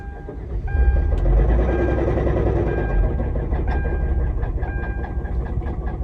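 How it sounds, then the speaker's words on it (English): A faulty car makes a very loud noise while driving: a heavy, continuous roaring rumble with droning mechanical tones and faint rattles, close and unbroken throughout. "I'll insert a clip in here for you guys to hear how loud the vehicle was, the noise."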